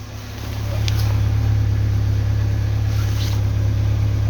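A Geely CK engine runs at a constant idle, steady without misfiring, a low continuous hum with no revving, close by and filling the whole clip.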